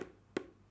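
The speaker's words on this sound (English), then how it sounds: "tapping." Light fingertip taps on a surface while drawing, two to three sharp, close taps spaced apart against a quiet background.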